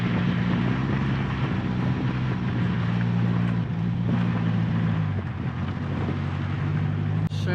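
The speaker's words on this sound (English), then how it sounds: "now we're going to drive up the hill towards Dobbs Drift Lookout" An 80 Series Toyota Landcruiser 4WD climbing a hill, its engine a loud continuous drone with a steady low hum that shifts pitch partway through, heard from inside the vehicle.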